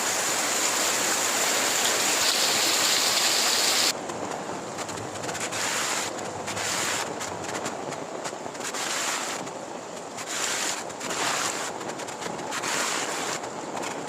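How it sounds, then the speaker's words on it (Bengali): Steady rain falls outdoors on a rainy day, a dense broadband hiss that stays loud for the first few seconds, then eases slightly into a fluctuating patter with no voices. "বৃষ্টির যে একটা শব্দ বা বৃষ্টি, সেটাও বাহিরে উপভোগ করতেছি"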